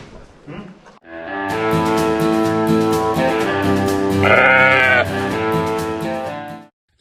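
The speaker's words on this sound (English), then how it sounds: "Dosing sheep for worms here, lambs and ewes." Sheep on a farm, ewes and lambs gathered for worm dosing, bleat loudly and close in a sustained overlapping chorus of quavering calls lasting several seconds with no talk.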